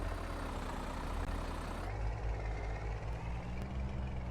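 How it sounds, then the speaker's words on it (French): A truck engine in the video game Farming Simulator 22, hauling a heavy load, gives a steady low droning rumble that shifts to a deeper, throatier tone partway through, continuous and fairly close with no clear talking over it. "Le son du camion est dégueulasse."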